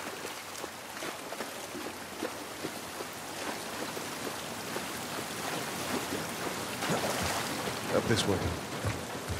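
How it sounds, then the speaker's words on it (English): Steady rainfall patters outdoors in the video game The Last of Us Part I, a dense hiss with scattered drops that swells slightly toward the end. A voice speaks briefly over it. "This rain ain't gonna do us any good."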